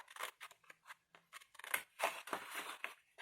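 Scissors snip paper along a fold in a run of short, crisp cuts, close and fairly loud with brief pauses between strokes, no talking.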